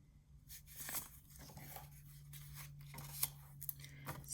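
Paper being scored with a scoring tool on a scoreboard, crafting a pocket organizer: short scraping and rubbing strokes, a few separate passes with brief pauses, close and quiet over a low steady hum.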